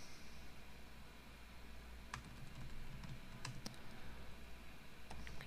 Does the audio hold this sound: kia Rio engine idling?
no